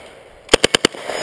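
Four sharp, loud submachine gun shots in quick succession at a shooting competition stage, close and evenly spaced, firing with iron sights.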